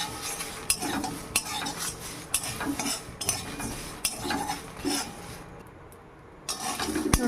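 Chopped bay leaves are dry-roasted in an ungreased pan, stirred with a metal utensil in steady, rhythmic scraping strokes and sharp clinks, close and clear, with a brief quieter pause near the end.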